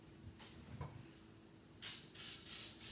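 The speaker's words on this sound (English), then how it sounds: "So I'm just spraying" Baking spray from a can of HEB baking flour spray misted while making mini banana nut loaves, three close, sharp hissing bursts in the last second, after quieter handling noise.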